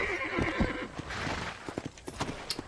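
A horse in Red Dead Redemption 2 gives a loud whinny, then hooves clip-clop in a quick uneven rhythm close by.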